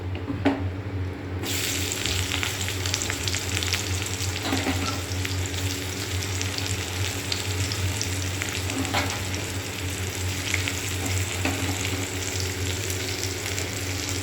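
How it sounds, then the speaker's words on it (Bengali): Chopped onions frying in hot oil, a steady dense sizzle that runs throughout with occasional stirring scrapes, close and fairly loud with no talking. "এবার কুচিয়ে রাখা পেঁয়াজগুলো দেবো।"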